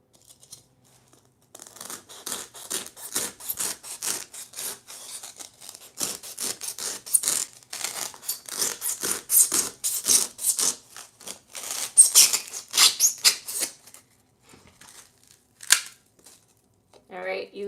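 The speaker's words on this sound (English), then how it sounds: "you can just cut it in half and then put it in the vase" Scissors cut a centerpiece piece in half for a simple DIY arrangement, making a long run of quick, crisp snipping and rasping strokes close to the mic, with a person talking intermittently.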